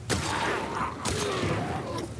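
Two gunshots in The Last of Us Part 2, sharp loud reports about a second apart, each followed by a lingering echoing tail amid background game noise.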